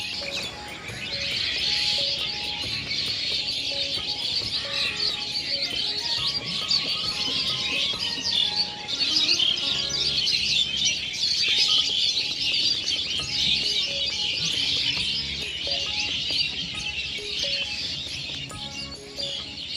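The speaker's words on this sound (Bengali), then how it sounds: "আমাদের হৃদয়ের মূল আকর্ষণ এখন এই চঞ্চল শালিকের দল" A large flock of myna birds chatters over a dry wetland beside village fields, a dense continuous chorus of overlapping chirps and calls, fairly loud and steady throughout.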